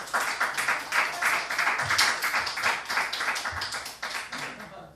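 An audience at a church testimony breaks into applause, a full room of hands clapping steadily for several seconds before thinning out near the end.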